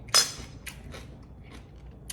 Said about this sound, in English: You hear that crunch, and it's raw